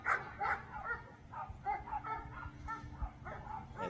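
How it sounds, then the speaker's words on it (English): Several dogs bark and yip in a played-back recording during a county planning commission meeting, rapid overlapping barks sounding somewhat distant and thin through playback. "they haven't heard the barking"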